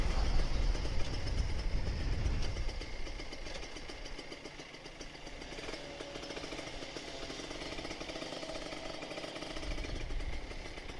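Kawasaki Ninja RR 150 two-stroke motorcycle with an open exhaust on a morning ride, its engine droning steadily and close with a rough, rattling buzz that carries on throughout.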